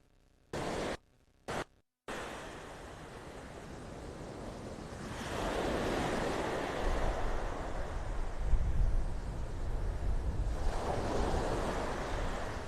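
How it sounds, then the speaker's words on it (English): Ocean surf rolls onto the beach at North Naples, Florida on a morning walk, a steady wash of breaking waves swelling and receding with some wind rumble on the microphone after a few brief starts of noise. "Probably with these waves, the water's not going to be so clear."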